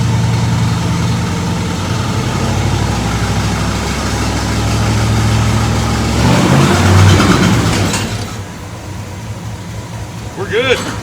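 A car engine with a TH350 automatic transmission runs steadily in drive, its low drone shifting pitch as it changes gears, then dropping away to a quieter idle near the end.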